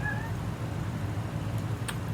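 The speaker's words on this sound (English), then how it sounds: "my cat wants to come in" A cat meowing outside a door to be let in, a couple of brief faint meows over a steady low background hum.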